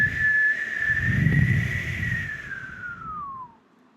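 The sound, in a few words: reader imitating a hen's funny whistling noise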